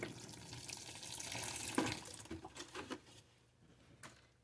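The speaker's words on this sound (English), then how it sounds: "A bit of water." Water trickles and splashes into seed-starting soil mix in a greenhouse, a brief soft pour that breaks into a few quieter patters and drips.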